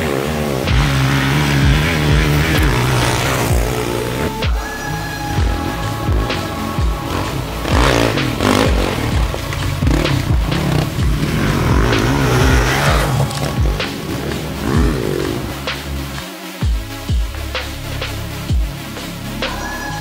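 Honda 450 CRF XR enduro motorcycle ridden off-road, its engine note rising and falling continuously as the rider works the throttle over rough terrain, loud and close throughout with no talk.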